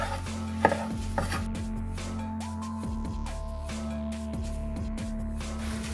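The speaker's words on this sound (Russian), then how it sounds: "нарезаем помидорчики и добавляем на поджарку" A knife chops tomatoes on a cutting board in a home kitchen, a series of crisp, fairly close taps in an uneven rhythm over a steady background hum, with no talking.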